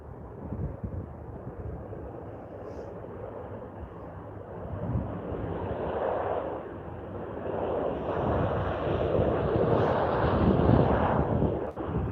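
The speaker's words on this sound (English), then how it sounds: "Back is the departing Air Canada 787" An Air Canada Boeing 787 departs from Vancouver International Airport, a distant broad jet roar that swells slowly over several seconds, mixed with wind buffeting on the microphone.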